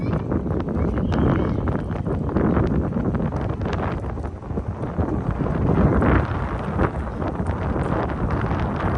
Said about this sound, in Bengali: বৃষ্টি বাতাস আর পানির সাউন্ড।